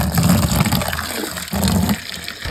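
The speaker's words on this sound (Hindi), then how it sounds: "अच्छा जी अब पानी वगैरह डालते हैं जल्दी से परिंदों को, अपने तोतों को।" Water gushes and splashes steadily as it is poured into a bowl for green ring-neck parrot chicks, a loud, close pour with slight surges in flow and no talking.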